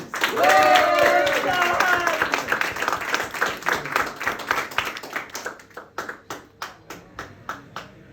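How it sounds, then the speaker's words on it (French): Audience applause at an improv cabaret show in a Brest venue: dense, loud clapping with a voice over it at first, then thinning to scattered individual claps toward the end. "Veuillez applaudir Stan."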